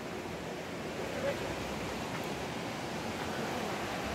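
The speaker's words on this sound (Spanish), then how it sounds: "miren, el río tiene bastante agua" A river running high with plenty of water gives a broad, steady rushing hiss, continuous and fairly close, with no distinct breaks.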